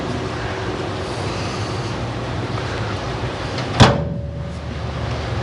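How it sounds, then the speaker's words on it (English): A car door shuts once with a single sharp thud partway through, standing out over a steady broadband hum of interior or road noise, during work installing cantilever seating in a vehicle. "Close the door real quick."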